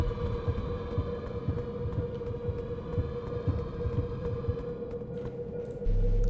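A steady low heartbeat-like throbbing pulses in the video game Luto, with a constant tonal hum above it, running unbroken until a deeper tone cuts in near the end.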